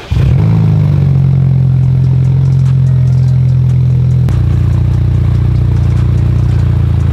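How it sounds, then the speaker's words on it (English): A BMW F30 328 with M Sport trim cold-starts close by: a quick crank catches into a loud, steady high idle that holds, then drops to a rougher, lower idle partway through, with no revving and no talk. "cold startup on an F30 328."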